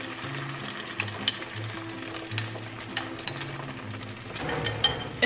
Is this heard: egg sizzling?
yes